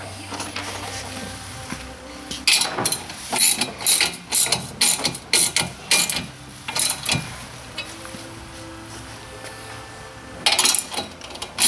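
Boom assembly clamps are tightened by hand in quick bursts of clicking, ratcheting mechanical noise, one tight cluster followed after a pause by a shorter burst, heard close with no talking.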